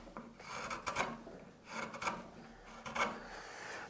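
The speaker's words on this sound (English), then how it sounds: "So I'm going to cut these short fibres to long, and the long fibres of the timber will support the cut." A hand carving tool slices across timber fibres in three distinct rasping strokes, roughly one per second, close and quiet with no talk.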